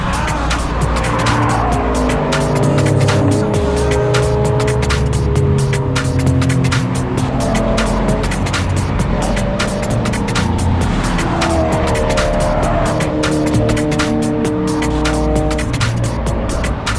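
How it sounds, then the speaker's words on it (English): Race cars, including a Mini and a blue Clio, lap the Brands Hatch GP circuit, engines roaring loud and close with rising and falling revs, gear changes and a car passing by. "This Mini and this blue Clio are going head to head"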